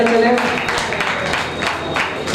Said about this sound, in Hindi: जोरदार तालियां बजाते चले।